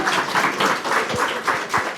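A crowd at a board of education meeting applauds in a close, dense burst of clapping that holds steady for a couple of seconds, with no voices.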